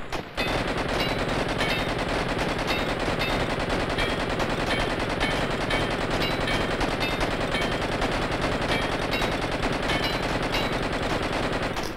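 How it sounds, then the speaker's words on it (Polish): Explosive ammunition fired in the Blood & Bacon video game: continuous, loud automatic gunfire hammering without pause for the whole stretch, dense and close, with no talk over it. "Dostaliśmy wybuchową amunicję."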